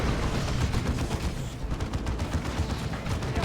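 A Librarian firing at a mine in the video game Dawn of War 2, amid dense, continuous gunfire and booming battle noise, with loud rapid shots layered over one another throughout.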